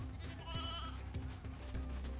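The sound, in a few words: sheep bleating in Final Fantasy XIII-2 video game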